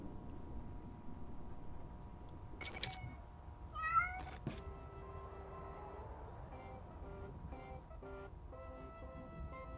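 A kitten meows in the video game Amanda the Adventurer, a couple of short, thin cries over a quiet game background hum with scattered electronic chirps.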